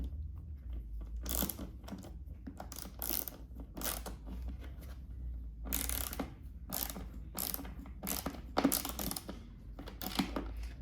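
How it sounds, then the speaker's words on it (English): A 3/8 inch socket ratchet tightens a subwoofer's ring-connector terminal on a BMW K1600B motorcycle, giving close, crisp bursts of rapid clicking separated by short pauses. "torque down with a socket on this side. So this is a 3/8 inch socket drive for this"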